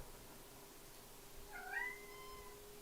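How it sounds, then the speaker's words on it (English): A pet cat gives a single short, rising meow, faint and fairly close against a quiet room hum. "My other cat's come to say hello."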